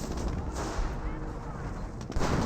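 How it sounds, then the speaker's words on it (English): A 25-pounder artillery barrage in the Company of Heroes video game gives a steady, dense rumble of blasts and gunfire. A sharper, louder blast hits near the end. "Very good 25-pounder barrage."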